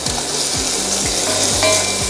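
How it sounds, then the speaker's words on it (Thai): A utensil repeatedly scrapes stuck residue from a pot while kimchi soup with bacon stir-fries, giving rhythmic close scrapes over continuous loud sizzling. "ที่ผมขูดเนี่ยคือ คราบที่มันติดกับหม้อเพื่อไม่ให้มันไหม้นะครับ ขูดมันออกมา แล้วก็ผัดมันไปด้วยกัน"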